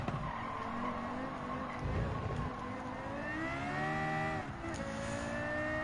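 A racing car engine in the video game Gran Turismo 7 revs and whines through gear changes, with tire squeals and rising, falling pitch sustained throughout at moderate loudness.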